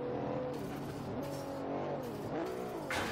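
Engine of an Infiniti Q60 Concept in Forza Horizon 3 revving with a stuttering, uneven note that climbs and dips repeatedly, close and steady, with brief cuts in the high end as the revs break up.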